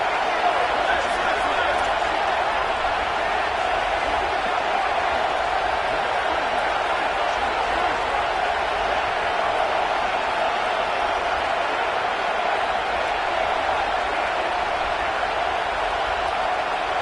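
A large college football stadium crowd at UCLA versus Oregon roars in a steady, broad wash of noise, with a commentator talking over it.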